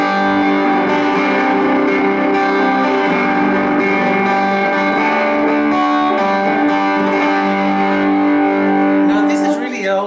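Vox AC4TV guitar amplifier driven through pedals, playing a loud, sustained distorted electric guitar tone with rich harmonics and reverb, continuous throughout and fading slightly at the end.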